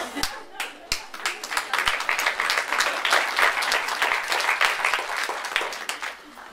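A small group in a French film scene bursts into clapping, a few sharp, separate claps first that quickly swell into a lively, sustained round of applause before easing off near the end.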